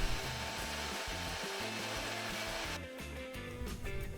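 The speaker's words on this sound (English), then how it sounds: "Here I'm vacuuming out all the sawdust that the sanding left" A vacuum drones steadily while sucking sawdust off sanded plywood for a bookshelf ladder, a loud continuous whine with shifting rattles as the nozzle moves across the surface.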